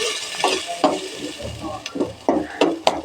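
Masala for a singi fish curry is sautéed with a splash of water, as a spoon scrapes and knocks rhythmically against the pan over a low, bubbling sizzle, close up and without voices.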